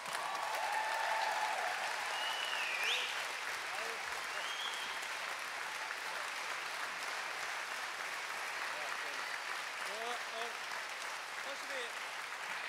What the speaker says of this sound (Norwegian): Gi en god applaus til Tor Håvik.